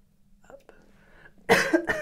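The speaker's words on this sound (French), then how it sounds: "Excusez-moi pour la toux." A single sharp cough bursts out close to the microphone after a quiet moment, followed by a short second cough.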